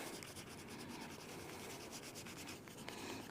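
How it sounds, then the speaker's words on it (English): Leather cuff edge being rubbed against canvas to burnish it, a soft continuous dry scraping and rubbing, close and fairly quiet, with no voices. "I just hold my canvas and I rub the leather against the canvas instead of the canvas against the leather."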